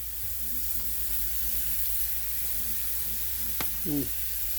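Eight lean beef burger patties sizzle in a pan with a steady, close, continuous hiss that holds throughout. A brief faint tone sounds near the end.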